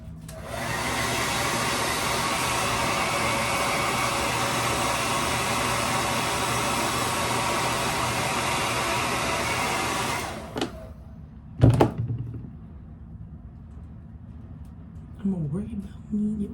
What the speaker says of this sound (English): And then you want to take your blow dryer and dry.